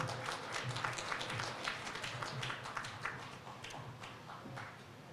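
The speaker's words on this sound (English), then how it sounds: "Another round of applause for Stan, everyone." Wedding guests give another round of applause: a dense, continuous patter of many hands clapping at once, steady throughout with a slight easing near the close.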